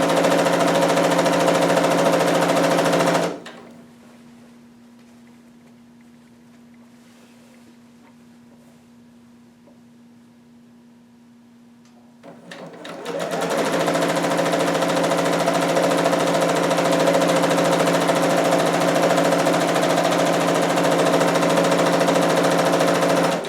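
A home sewing machine runs loud and close as it stitches fabric for a Vogue 2530 garment: a steady whirring buzz at the start, a quiet pause for about ten seconds, then another sustained run of stitching.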